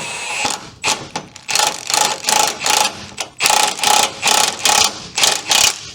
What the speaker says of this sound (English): we're going to use the 1600 foot-pound gun